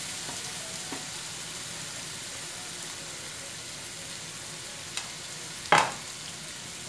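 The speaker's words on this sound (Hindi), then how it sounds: "एक मिनट इसको फ्राई करके आपने ये शिमला मिर्च और बंद गोभी इसमें ऐड कर देनी है" Capsicum and cabbage fry in a pan for chicken Manchurian, a faint steady sizzle punctuated by a few soft stirring clinks and one sharper utensil knock near the end.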